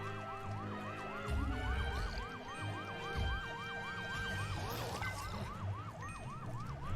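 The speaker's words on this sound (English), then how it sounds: "Ooh, floating siren." A floating siren enemy in the video game Luigi's Mansion 3 wails with a rapid, repeating up-and-down electronic siren, loud and steady throughout, over busy game background noise and thumps.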